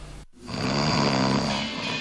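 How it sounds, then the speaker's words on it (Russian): A sleeping person snores once, a long rough rattling breath that rises after a brief silence and holds steady, close and fairly loud. "Каждый третий человек на планете храпит во сне."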